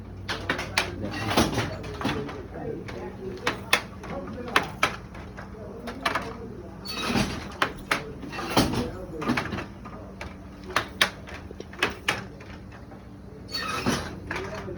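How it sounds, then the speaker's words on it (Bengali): A handloom weaving a sari beats out repeated wooden clacks and thuds in a steady loose rhythm, each strike about one to two seconds apart, close and fairly loud. "এই তাঁতের মেশিন সব এখানে তাঁতের শাড়ি তৈরি করা হচ্ছে"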